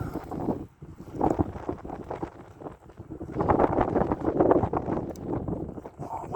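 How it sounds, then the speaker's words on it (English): Strong gusting wind, around 10 to 15 mph, roars across an open outdoor range, rising and falling in broad rushing surges with rough buffeting against the microphone and no clear speech. "The wind is crazy, y'all."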